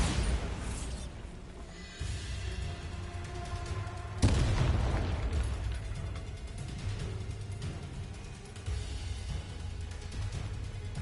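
A Bombarda spell goes off in Hogwarts Legacy, a deep booming blast that jumps out midway through a dense game soundscape of rumbling and crackling effects, with no talking.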